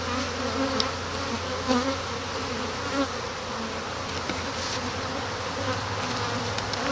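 Honey bees buzz in an open hive, a dense, steady drone up close that holds without a break, with no voices.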